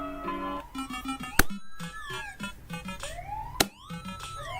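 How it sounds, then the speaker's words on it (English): Police-style sirens outside a house, rising and falling wails with several overlapping tones, heard indoors amid other electronic sounds and two sharp clicks. "No, they're like sirens outside my house right now."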